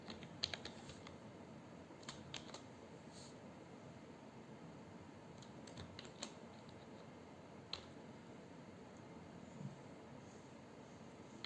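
Keys clatter on a computer keyboard in quiet, irregular bursts of light taps with short pauses between them, close but faint against a soft background hiss.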